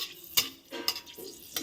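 Dried red chillies and black cumin seeds frying in a pan, stirred with a utensil; a few separate scraping strokes and light clinks over a faint sizzle, close and fairly quiet, with no talking.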